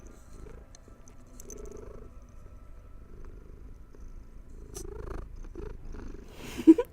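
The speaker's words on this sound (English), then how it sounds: "But Katie requests purring in microphone." A house cat purrs softly right up against the microphone, a low steady rumble running through the whole stretch, with a brief louder burst near the end.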